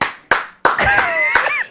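A few sharp, loud hand claps in a podcast studio, spaced apart, followed by voices carrying on.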